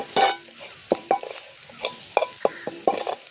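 Fresh sea shells frying in oil in a pan at a beach cooking spot, with sharp, spaced spatula scrapes and stir clicks over a low sizzle, close and fairly loud.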